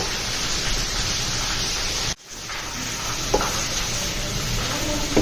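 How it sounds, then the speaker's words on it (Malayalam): Dense, hissing sizzle of grated coconut frying in coconut oil for vathakulambu, close and loud, briefly cut off then resuming with light stirring scrapes. "അതിലേക്ക് കുറച്ച് വെളിച്ചെണ്ണ ഒഴിച്ച് ഇനി നമ്മൾ തേങ്ങയിട്ട് വറുത്തെടുക്കാം."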